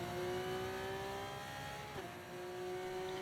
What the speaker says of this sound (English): Foot down on the gas.